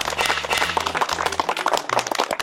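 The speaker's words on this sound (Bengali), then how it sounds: "আমাদের প্রিয় অভিভাবকের জন্য ছোট্ট একটা হাততালি" An audience gives brief, brisk applause for a cherished guardian figure at a stage event, with many hands clapping together in a busy, continuous patter over low background tones.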